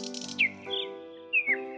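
High, thin chirps of a small bird come in a few brief rising and falling calls over a steady tonal background, close and clear, with short gaps between them.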